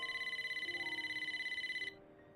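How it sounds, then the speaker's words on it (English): A telephone rings in a video game, a rapid trilling electronic bell repeating evenly for about two seconds before cutting off, leaving quiet background. "Pick up the phone."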